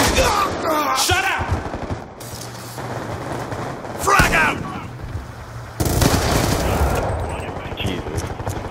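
Sentry gun fire in a capture-the-flag video game match on the Slums map: rapid bursts of automatic gunfire with sharp loud shots, mixed with players talking over it.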